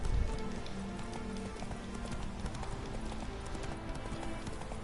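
Roach the horse gallops in The Witcher 3, a steady run of hoofbeat clip-clops at close range, continuous throughout over a dense rustling background.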